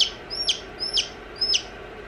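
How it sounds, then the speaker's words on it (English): A rooster on a small farm with mini goats clucks close by in three quick, evenly spaced bursts, each a short cluster of sharp, high squawks, loud and alone with no talking. "Sounds like a rooster."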